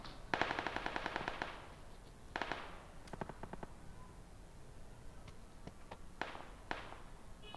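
Video game gunfire in the battle royale New State: rapid automatic bursts, loud and close at first, followed by shorter bursts and scattered single shots, some more distant, with no talk.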